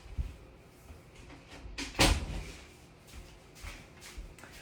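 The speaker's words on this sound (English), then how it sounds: "let me shut my door" A door in a home craft room is shut, with one sharp close thud in the middle amid soft shuffling and faint handling noises.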